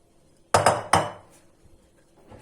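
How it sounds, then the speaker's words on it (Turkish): Two sharp clattering knocks of a spatula against a small rectangular glass baking dish while spreading Şam dessert, close and loud with quick ringing decay, then near silence. "Spatula yardımıyla tatlımı ilave ediyorum"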